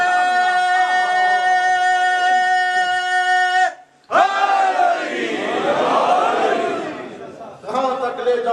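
A large gathering at a Shia religious sermon erupts in a loud, chanted slogan response after a speaker's drawn-out call, the massed voices swelling together for several seconds before the call resumes.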